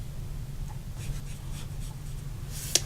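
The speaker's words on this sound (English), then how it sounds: "we're going to go all around the edge of our card with our brush tip" A brush tip marker strokes around the edge of a paper birthday card, with soft, quiet, repeated scratchy swipes and a brief tap near the end.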